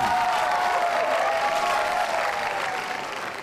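An audience at a boxing match applauds in a dense, sustained wash of clapping with some crowd noise, gradually fading toward the end.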